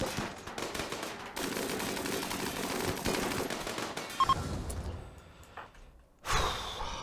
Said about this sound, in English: All of you, fire at this thing.